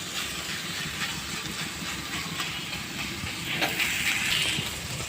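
A continuous steady sizzle rises from kharkol stalks frying in a pan, heard close and even throughout with slight swells near the end and no speech.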